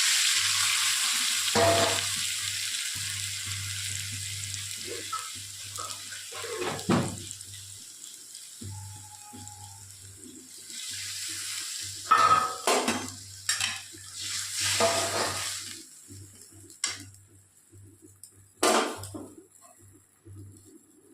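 Water splashed into a hot pan of brinjal on the stove, giving bursts of sizzling and hissing along with stirring scrapes and occasional clinks of the pot, with quiet gaps between spells of activity.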